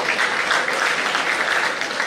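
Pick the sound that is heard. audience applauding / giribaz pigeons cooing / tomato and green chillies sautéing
audience applauding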